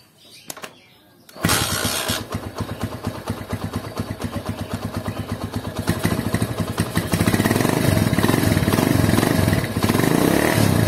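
Honda Supra or GL motorcycle engine started and running near the microphone, a rapid steady putter after a brief quiet start, growing a little louder and rougher toward the end.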